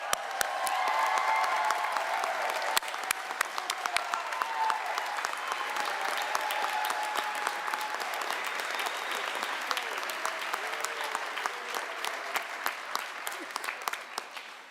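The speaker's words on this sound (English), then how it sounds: "Let's give our graduates one more round of applause." Steady audience applause for graduates at a 2021 physician assistant commencement ceremony, a broad wash of clapping from a large hall that carries on for about fifteen seconds before gradually thinning.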